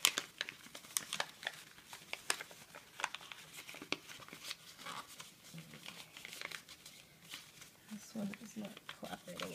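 Origami paper is folded into a box, giving soft crinkling and light tapping sounds under a voice explaining the steps.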